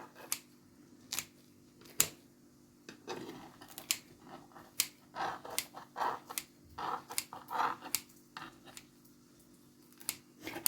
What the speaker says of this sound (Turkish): küçük küçük de kesiyorum arkadaşlar. Bir makas yardımı ile